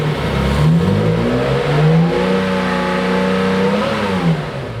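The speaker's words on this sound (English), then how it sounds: "If we rev the engine, the oil pressure will go up." A vintage Porsche engine fitted with modern electronic fuel injection revs up from idle, holds a steady raised hum, then eases back down, loud and close, with no talk.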